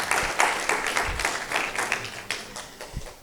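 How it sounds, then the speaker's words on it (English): Applause at an event marking the release of two books, a modest, close round of clapping with uneven, scattered hand claps that keeps going throughout. "I'll wait for the applause."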